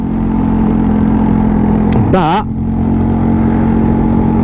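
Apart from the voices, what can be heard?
Royal Alloy GT125 scooter with loud Tasso exhaust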